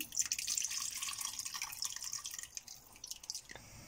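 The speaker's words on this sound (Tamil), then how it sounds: "இப்போ புள்ளி கரைசலை வந்து இதில் வடிகட்டிடலாம்" Tamarind extract trickles and drips steadily as it is strained into a pot, a soft splashing patter close by with no talking.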